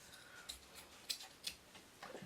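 Fabric scissors snip through fabric, making a few crisp, close cuts at irregular intervals over a quiet background, with no talk.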